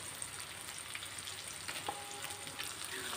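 Chicken pieces sizzle steadily in a hot pan while being stirred, a continuous bright frying hiss with occasional soft scraping and clinks of the utensil, close and fairly quiet.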